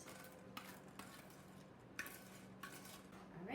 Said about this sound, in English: we're going to mix everything together. Mix, mix, mix.